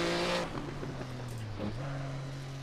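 A vintage Maserati 250F race car slows into a chicane on engine braking. The engine note is loud and close, sagging in pitch as the car decelerates, then lifting with a rev-matched blip on a downshift.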